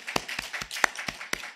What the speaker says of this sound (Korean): 오늘 교회 나오는 청소년들 박수 한번 쳐줍시다